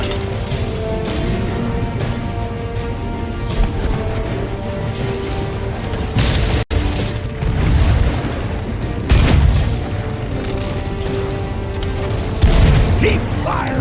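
Ship cannons firing in the pirate game Sea of Thieves, heavy booms that repeat at irregular intervals through a loud, dense battle din, with one sharp crack midway.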